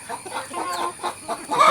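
A hen clucks in a series of short, close calls with small pauses between them, set in a backyard flock at feeding time.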